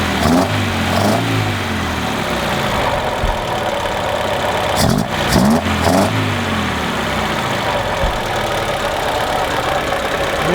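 Abandoned 1976 BMW 2002 engine running steadily close by, a continuous mid-pitched hum with a couple of brief revs rising and falling midway, no voices over it.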